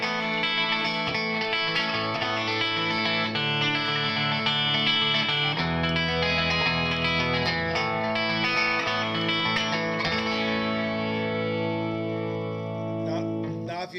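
A Rickenbacker 12-string electric guitar with both pickups on and the tone at its brightest plays continuously, its chiming, densely layered strummed chords bright and steady, close and loud with a light effects sheen throughout.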